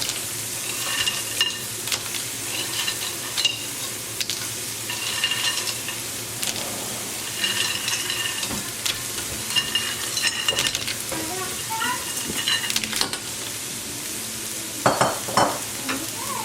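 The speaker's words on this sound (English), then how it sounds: "And mix it all up slowly." Seafood paella with fresh clams being slowly stirred in a hot pan, a steady sizzle with scraping spoon strokes and clinks running throughout, close and moderately loud.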